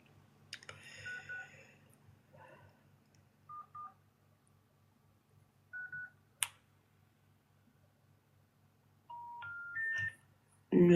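Telephone keypad dialing tones from a phone being used to place a call, several short steady beeps spaced apart, clear and fairly close over a low hum, ending in a quicker run of tones.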